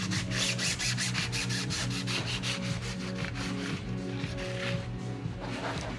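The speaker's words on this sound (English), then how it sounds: "Back to scrubbing." A brush scrubbing a 1986 Cadillac funeral car, a steady run of close, loud rubbing strokes in quick rhythm with no pause.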